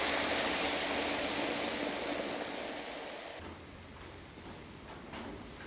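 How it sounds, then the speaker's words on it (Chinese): Water poured into a pot of red, chili-oil soup base for a fish dish with yellow catfish, a loud steady gush that cuts off sharply partway, leaving a softer bubbling simmer. "倒水"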